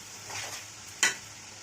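Vegetables are tempered and stirred in hot oil for vegetable pulao, a soft steady sizzle with a single sharp clink of a utensil against the pan partway through.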